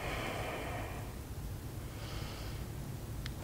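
Slow, steady breathing during a yoga pose: a long airy exhale is heard close up and alone, with no talking.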